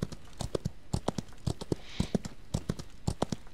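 Horse hooves clip-clop in a steady, repeating rhythm, close and clear, as a mount trots in the Old West video game Outlaws of the Old West.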